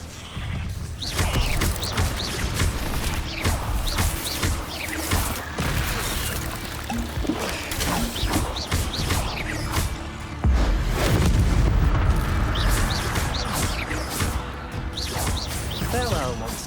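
Incendio fire spells cast repeatedly in the Hogwarts Legacy video game, loud whooshing bursts and crackling impacts amid creaks and booming combat noise, with a voice speaking over the action.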